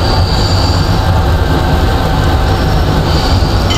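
A train rumbles steadily along the track in a railway video game on the approach to West Croydon, with a loud, continuous low roll of wheels and faint high squeal, no voices.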